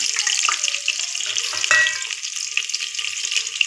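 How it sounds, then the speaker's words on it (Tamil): Mustard seeds, onions, chilli, curry leaves and garlic sizzle and crackle in hot oil in a pan, a steady close frying hiss with small pops and a brief louder burst midway, no talking. "கடுகு பொரிஞ்சிச்சு, நம்ம ஆட் பண்ணிக்கலாம்"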